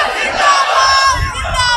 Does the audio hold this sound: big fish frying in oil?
no